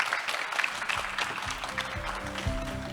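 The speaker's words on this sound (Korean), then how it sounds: "큰 박수 부탁드립니다." Audience applause at a Korean startup audition pitching event, steady clapping through the short stretch with a host's voice and music layered beneath it.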